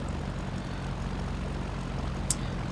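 A small propeller aircraft taxis in X-Plane 11, its engine a steady low droning hum with a faint click partway through.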